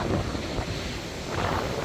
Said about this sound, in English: It is a bit windy. It's not too windy, but it is a bit windy.